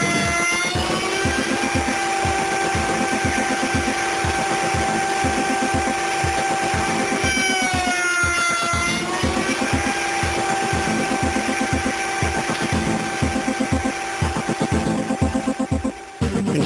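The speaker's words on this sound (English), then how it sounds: "Now you're ready to secure your rails in the coping sled and cut both ends of each piece." A router table cuts the ends of wooden door frame rails held in a coping sled, a loud, steady whine with a rapid pulsing chatter running throughout and pitch dips as the bit meets the wood.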